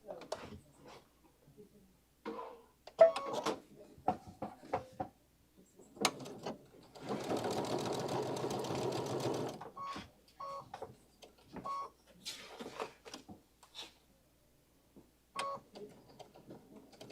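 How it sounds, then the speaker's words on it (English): Sewing machine top stitching fabric: a steady mechanical whirring run of about three seconds in the middle, framed by scattered clicks, handling noises and someone talking. "Top stitch it."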